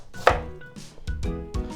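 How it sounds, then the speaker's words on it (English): An onion cut into pieces with a knife gives several crisp chopping thuds on a cutting board, close and evenly spaced, with no talking. "Then I'm just gonna cut these into pieces."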